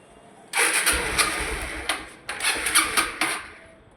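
A motorbike that won't start is cranked over in three short, rough bursts, each sputtering briefly and dying away without catching. It is close and fairly loud, with no talk over it.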